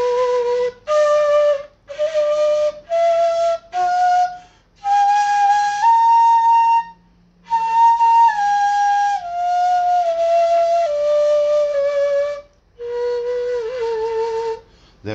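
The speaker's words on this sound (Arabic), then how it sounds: "اول حاجه هنبتدي نلعب الحجاز من هنا زي ما اتفقنا، تعالوا نسمعه مع بعض اهو" Kawala reed flute playing maqam Hijaz, a breathy, reedy melody moving in long sustained phrases with brief pauses between them, close and clear, alone without talking.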